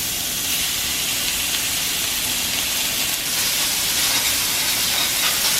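Small bacon pieces frying in a medium-hot pan, producing a continuous, even, close hiss and crackle throughout with no talk.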